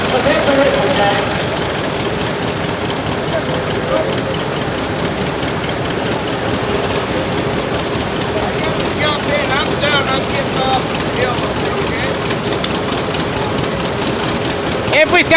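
An old stationary engine at the Buckley Old Engine Show runs at a steady, even rhythmic chug with a mechanical clatter, close and continuous, while people talk nearby.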